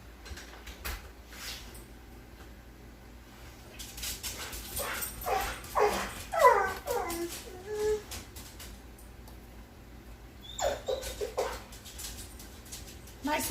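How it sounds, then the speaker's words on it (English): A pet dog whines and whimpers indoors in a kitchen, a run of high, wavering cries that rise and fall near the middle, then a few more short whimpers later, moderately close. "now my dog is just whining for him"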